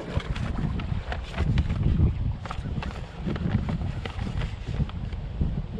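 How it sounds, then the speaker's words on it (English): Wind blows across the Connecticut River, buffeting the microphone in a steady low rumble that swells and eases in gusts, with faint scattered knocks and no voices. "Wind's gonna blow me all the way back to the parking lot"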